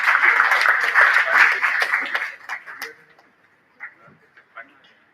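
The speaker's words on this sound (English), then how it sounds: "Again, I request all of you to please give a huge round of applause." A conference audience gives a round of applause, a dense burst of clapping that thins to scattered claps and trails off into near silence.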